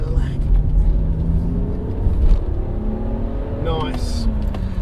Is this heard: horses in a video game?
no